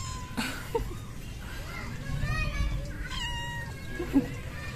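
A cat meows a few times over a murmuring outdoor background, the calls fairly close and separated by short pauses.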